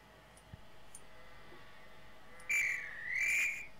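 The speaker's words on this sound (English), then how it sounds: "There's the whistle." In Trainz Railroad Simulator 2019, a train guard's whistle gives two shrill blasts, a short one and then a longer warbling one, clear over a quiet station hum with faint clicks.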